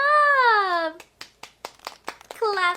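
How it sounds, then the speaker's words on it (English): A child and an adult clap hands, a series of about six sharp, close claps in an uneven rhythm between bits of sung or spoken voice. "Let's clap it."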